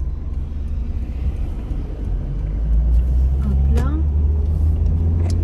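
Cars roll past on a road, a steady low traffic rumble that swells toward the end, with someone talking over it.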